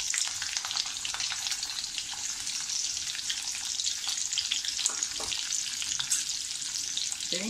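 Garlic, green chillies and curry leaves fry in a pan for seasoned fried rice, producing a bright crackling sizzle throughout with scattered spatula scrapes.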